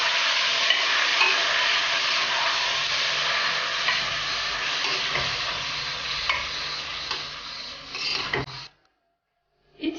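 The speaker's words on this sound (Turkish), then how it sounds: "Kuşbaşı etimizi ilave ediyoruz. Ve üzeri kabuk bağlayana kadar kavuracağız." Diced meat for Turkish büryan pilaf sizzles loudly as it sears in a hot pan, with occasional stirring scrapes, steady throughout, then cuts to near silence at the end.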